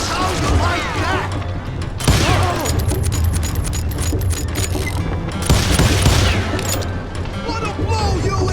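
Call of Juarez Gunslinger shootout with repeated gunshots and booms, two heavier blasts standing out, under steady game noise and talk.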